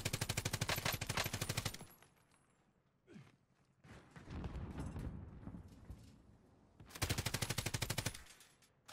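Rapid automatic gunfire from the video game Warzone, two loud sustained bursts of fast, evenly spaced shots, separated by quieter scuffling and movement sounds in between.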